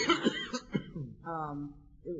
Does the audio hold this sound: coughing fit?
yes